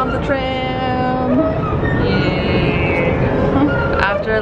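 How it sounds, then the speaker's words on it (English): Tram rolling along its rails in a continuous steady rumble with tonal wheel and motor whine rising and falling, a faint squeal near the end, while passengers talk over it. "We made it on the tram."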